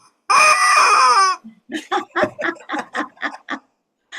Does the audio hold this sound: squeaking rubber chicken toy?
yes